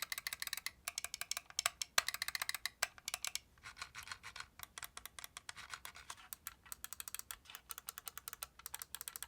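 Rapid, crisp clicks from the optical-switch buttons of a Corsair M75 Wireless mouse, tapped in quick irregular bursts with brief pauses, close and fairly quiet with no talking.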